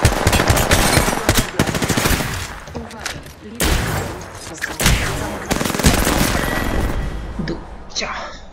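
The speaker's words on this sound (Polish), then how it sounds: "Jestem pod ostrzałem." Loud bursts of automatic gunfire in the video game Apex Legends, with rapid volleys, pauses and renewed shooting close by, and a voice speaking at times among the shots.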